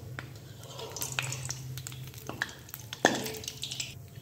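Ripe mango fritters fry gently in oil at low heat, a soft continuous bubbling with scattered light pops and one sharper clack of a utensil against the pan.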